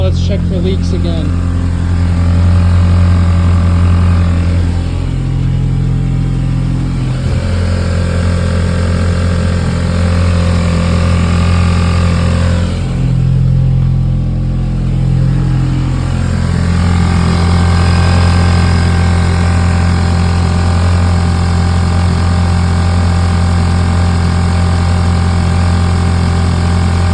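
An Audi A4 B8.5 engine after a high-pressure fuel pump install, running at a loud steady idle with a couple of brief dips in tone, heard close up throughout.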